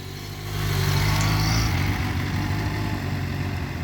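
A motorcycle pulls away at the start of a slow-race exercise during a SAAQ licence exam in Longueuil, its engine rising to a steady, loud drone that holds through to the end.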